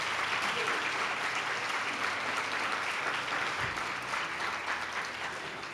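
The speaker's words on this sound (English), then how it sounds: "Let's give another round of applause." An audience at an evening human rights commission event applauds, a dense sustained clapping from a full room that holds steady and tapers slightly at the end.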